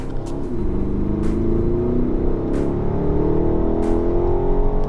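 A BMW X7 M50i engine heard from inside the cabin: a steady, loud low drone with a gradually rising tone as it pulls under load, and no talking.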